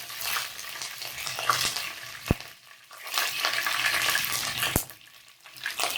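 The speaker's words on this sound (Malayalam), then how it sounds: "കറിവേപ്പില നല്ലോണം പൊട്ടണം." Curry leaves splutter in hot sesame oil for a dates pickle, making a rushing sizzle broken by a couple of sharp, loud pops, with no talking.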